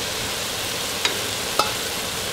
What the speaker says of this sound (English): Let them sizzle a little bit and caramelize